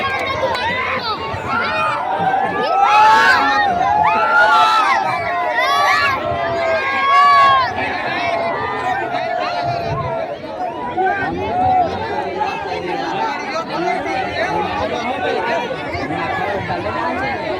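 A large crowd chatters at a politician's rally in Bilanditand, a dense, loud hubbub of many overlapping voices that continues throughout, with shouts rising above it.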